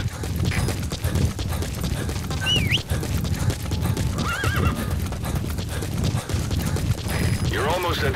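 Rhythmic clip-clop of hooves with a horse neighing and whinnying several times over a busy game soundscape.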